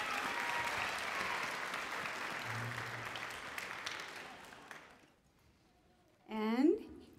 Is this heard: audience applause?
yes